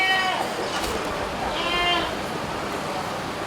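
Sacrificial goats at an animal market in Aceh Besar let out a few high, wavering bleats over a busy, noisy background, one early and one in the middle.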